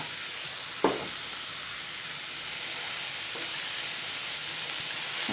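Jackfruit thoran with grated coconut is stir-fried in a pan, giving a continuous hissing sizzle. A sharp clank of a spoon on the pan comes early, followed by a few softer scrapes as it is stirred.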